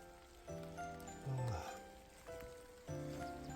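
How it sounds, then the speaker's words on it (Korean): Rain falls outdoors beside beehives that a raccoon dog knocked over on a hillside, a soft steady patter of drops with some brief louder spatters, no one talking. "아 비까지 오네"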